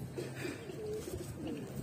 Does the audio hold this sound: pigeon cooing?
yes